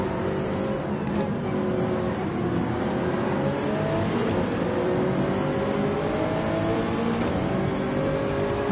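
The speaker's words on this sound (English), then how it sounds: "That Porsche has an amazing launch as always." A Porsche race car in a racing video game launching off the start, its engine revving and rising in pitch through the gears, loud and close, with other cars roaring alongside.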